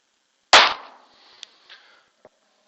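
A single sharp pistol shot at a 25-yard target, loud and close, followed by a fading tail and a few small faint clicks, no voices.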